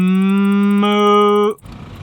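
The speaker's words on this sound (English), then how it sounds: "And the cows here, they truly add to the peacefulness too." A cow in a pasture on Madeira Island lets out a single loud, sustained moo lasting about a second and a half. It ends abruptly and gives way to quiet outdoor background.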